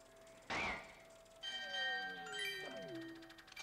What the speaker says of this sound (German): wenn man die Glocke geläutet hat?